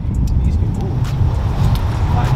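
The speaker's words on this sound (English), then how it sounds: "My boy Adrian done pulled up. Big Chevy." A big Chevy pulls up at a car meet, its engine rumbling low and close beneath a busy background of crowd noise and passing traffic.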